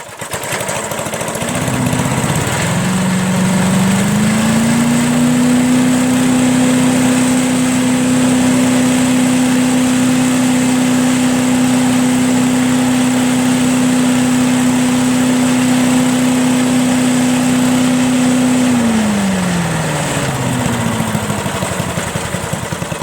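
A Troy-Bilt or Craftsman lawn tractor engine idles close by with a steady, loud drone that rises after startup, holds evenly for most of the stretch, then winds down near the end.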